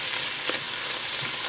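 Shrimp and vegetables for lo mein hiss in a steady, loud sizzle in a hot pan as they are stir-fried, with a few soft scraping stirs and no talk.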